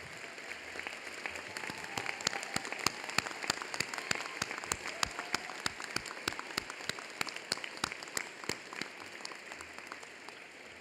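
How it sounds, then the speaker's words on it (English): Scattered applause from graduates at a medical college commencement ceremony, a steady patter of many hands clapping at moderate distance in a large hall, individual claps standing out over the wash. "So all of you stand up and give your family a round of applause."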